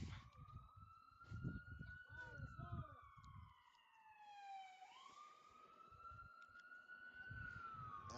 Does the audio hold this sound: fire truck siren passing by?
yes